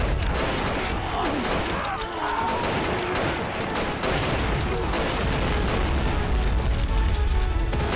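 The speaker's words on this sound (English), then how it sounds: "Oh, they're throwing the grenades." Grenade explosions and gunfire in a World War One trench battle in the game Army Men of War, a dense continuous din of booms and shots that stays loud throughout with no clear breaks.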